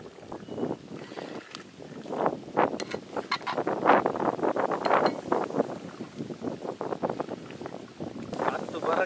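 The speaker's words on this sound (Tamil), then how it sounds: "காற்று எப்படி அடிக்குதுடா" Gusty wind buffets the microphone outdoors in a village in uneven, roaring surges, with voices faintly under it.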